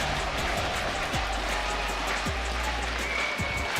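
A large arena crowd at a League of Legends esports playoff match, the LEC Winter Split lower bracket final, roars and applauds in a steady, dense wash of cheering with no pauses.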